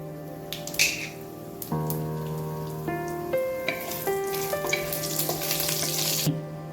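Chana dal, mustard seeds and urad dal crackle and sizzle in hot oil, a continuous spitting hiss with scattered pops, heard under a melodic music track.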